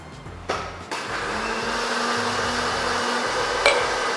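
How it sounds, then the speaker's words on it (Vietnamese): A kitchen blender starts with a couple of clunks, then whirs steadily for a few seconds while mixing whisky cocktail ingredients, ending with a small knock. "Mình sẽ cho tất cả nguyên liệu của mình vào máy xay, nhưng mà mình chỉ trộn đều lên thôi"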